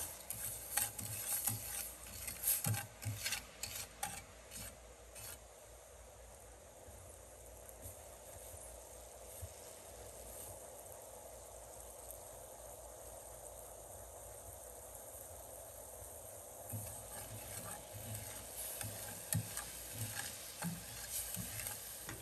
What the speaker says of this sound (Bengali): 4 টেবিল চামচ চিনি দিয়ে এটাকে আমি ক্যারামেল তৈরি করে নিব।